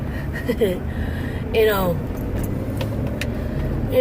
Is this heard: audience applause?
no